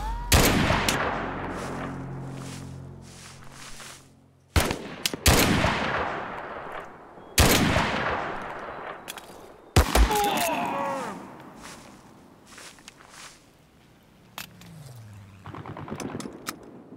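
Gunfire from the Mud and Blood video game: sharp, loud shots and short bursts separated by decaying echoes, spaced across the stretch with quieter gaps between.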